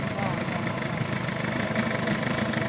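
A 2008 Suzuki GSX-R 750 motorcycle engine idling roughly with a hard-start fault, a steady close-up drone with an uneven, lumpy pulse and no clear talk over it.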